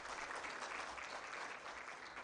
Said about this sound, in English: A very warm round of applause to Bernard and Veronica